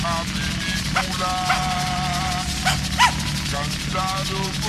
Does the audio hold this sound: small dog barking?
yes